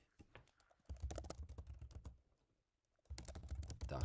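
Keys clatter on a computer keyboard as a web address is typed into an OBS browser source setting, two quick bursts of close, steady clicking separated by a short pause.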